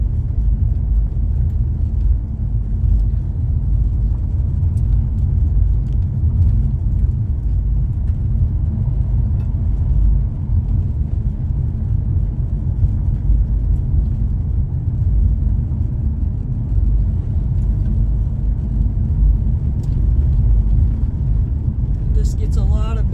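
A car rolls along a road past Lake De Smet near the Bighorn Mountains, its low steady engine and tire rumble continuous and close for the whole stretch, with no talking.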